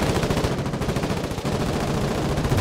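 Dense crossfire in the war video game Foxhole: continuous, overlapping bursts of automatic gunfire, rattling steadily at moderate loudness for the whole stretch.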